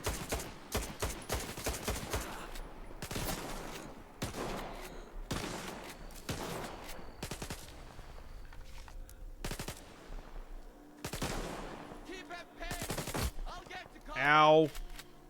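Gunfire from people shooting: a rapid series of sharp, loud shots in bursts with short gaps, ending in a brief vocal outburst.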